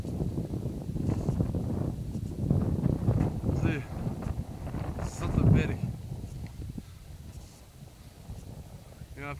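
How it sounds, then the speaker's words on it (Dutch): Strong wind gusts across a marble-rich mountain landscape, roaring and buffeting the microphone in loud surges that rise and fall, with a brief lull near the end. "Fucking veel wind."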